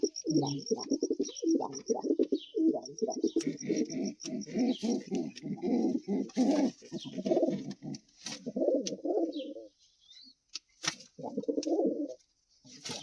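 Several white pigeons cooing in repeated low, throaty phrases, overlapping and fairly close, with faint chirps and clicks in the background.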